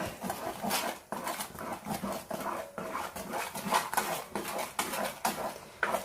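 Homemade lehyam with ground gooseberry is stirred in a pot, producing rhythmic scraping strokes repeated about once a second, close and moderately quiet.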